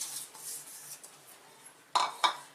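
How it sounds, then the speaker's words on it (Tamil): Powdered jaggery goes into a metal kadai: soft rustling and scraping, then two sharp metallic clanks close by in a quiet kitchen. "அதை இந்த வாணலில் போட்டுட்டு"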